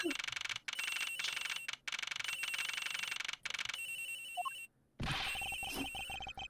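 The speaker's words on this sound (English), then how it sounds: "The ringing's coming from somewhere in here, sir." A telephone rings in the Ace Attorney Investigations video game. It plays as repeated electronic bursts in a steady on-off pattern with short silent gaps, loud and close, with faint game tones behind it and no talk.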